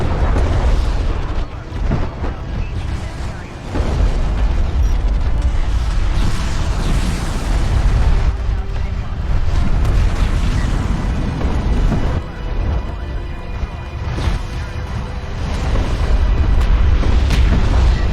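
Weapons fire and heavy explosions pound a support cruiser during a space strategy game match, dense rumbling booms layered continuously and loudly with little pause.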